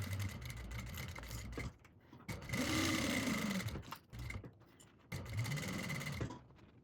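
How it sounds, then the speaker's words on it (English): A sewing machine stitches down the centre of a tech pouch pocket in three bursts of fast mechanical whirring, broken by short pauses, close and clear with no talk. "And then I'm going to sew right down the center of the pocket."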